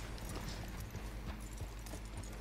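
Horse hooves clip-clopping at a steady walking rhythm in Red Dead Redemption 2, quiet and continuous against low background game ambience.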